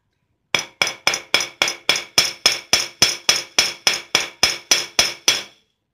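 Metal is hammered flat in a quick, even run of about sixteen sharp, ringing blows, close and loud, with no talking.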